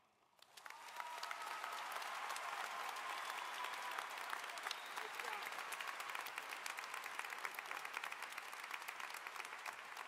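A large crowd at a high school graduation ceremony in an arena breaks into sustained applause after a speech, the clapping starting suddenly and holding dense and even for about nine seconds, heard from a distance.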